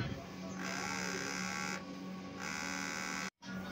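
Sublimation printer at a print shop running a head clean cycle, a steady mechanical whir and hum with a droning pitch that shifts in intensity, briefly cutting out near the end.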